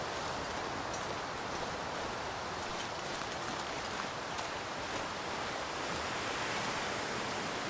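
Wind blows steadily across a frozen landscape in the survival game The Long Dark, a constant broadband hiss and rush with faint gusting texture and no pauses.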